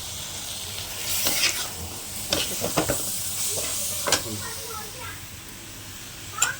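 Chicken liver coated in masala sizzles in a pan as a spoon scrapes and stirs it in several sharp bursts over a steady, close frying hiss.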